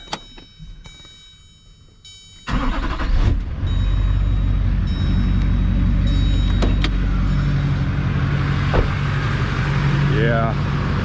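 Truck engine idling with turbo spooling inside the cab, a steady low rumble and broadband hum after a sudden rise, and a faint rising whistle near the end.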